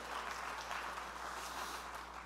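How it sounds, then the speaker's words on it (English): A church congregation claps their hands together in thanksgiving, a dense, steady wash of many palms sustained evenly throughout, with no voices rising above it. "Would you clap your hands and thank God that he touched you one day?"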